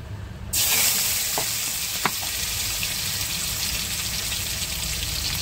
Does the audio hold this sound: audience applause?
no